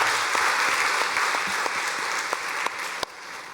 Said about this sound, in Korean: 박수는 행복하게 크게 감동 있게 치셔야 됩니다